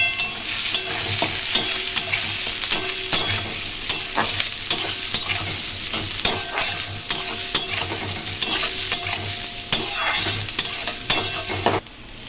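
Two large chopped onions fry loudly with cloves in a pan and are stirred vigorously, a close, constant sizzle broken by frequent scraping and clinks of a utensil against metal.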